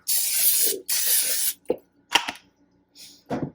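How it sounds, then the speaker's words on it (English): Two long hissing bursts from a can of cooking oil spray, sprayed inside a crockpot for bread dough, followed by a few short clicks and knocks and one brief final spritz. "So now I'm going to spray inside here with some cooking spray."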